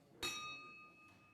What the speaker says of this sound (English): When we read the names, Tom will be ringing the bell